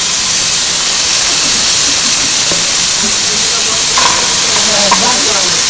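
Oil fries loudly and close in a pot, giving a dense, constant sizzling hiss with faint clinks and stirring scrapes in a kitchen, while some indistinct talking sits beneath it.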